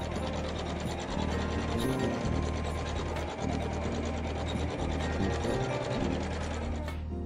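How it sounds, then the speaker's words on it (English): An embroidery machine sewing decorative stitches in a quilt block, a loud, continuous close-up mechanical clatter of gears and ratcheting needle strokes running the whole time without pause. "it's going to sew some decorative stitches."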